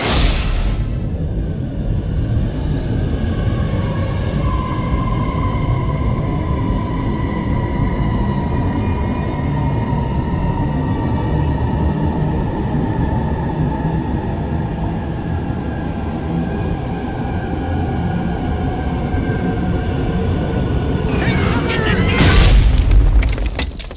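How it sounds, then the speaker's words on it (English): A lit rocket in a Looney Tunes Road Runner video game: a long, loud, steady roar with a slowly falling whistle tone, ending in a sharp explosive burst near the end. "I just lit a rocket. Rockets explode!"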